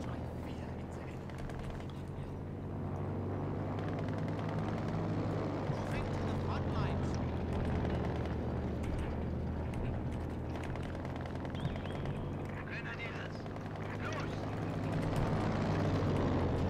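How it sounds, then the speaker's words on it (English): Low steady propeller drone of a recon plane flying overhead in the video game Company of Heroes 2, a continuous rumble beneath game effects and a talking voice. "that's a recon plane."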